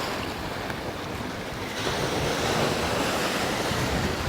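Steady roar of wind buffeting the microphone over crashing ocean surf beside a long pier, loud and continuous with no voices.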